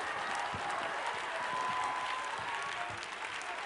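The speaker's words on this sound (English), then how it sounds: "give God a hand clap of praise for your children" A church congregation claps in praise, a dense and steady wash of applause from many hands filling the room, continuous and fairly even in loudness throughout.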